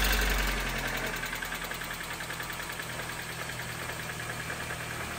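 A Mercedes W124 E220 engine, cold-started after nearly three years standing, settles into a steady, slightly knocking idle with a rhythmic mechanical tick, close and constant after a brief louder surge at the start.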